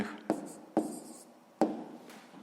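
Pen or marker tapping and scratching as fractions are written by hand for a sixth-grade maths exercise, three sharp strokes spaced apart with faint scraping between, close and quiet with no talk.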